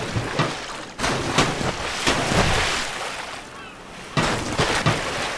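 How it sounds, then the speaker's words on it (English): A series of loud booming cannon blasts in the game Pirates, Vikings and Knights II, several shots spaced irregularly, over a constant roar of wind and sea. "fire the cannons at the people"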